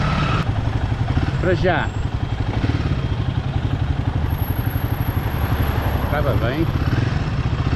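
Royal Enfield Himalayan 450 motorcycle engine on a test ride, a steady close, loud rumbling drone running throughout under a man's continuous speech.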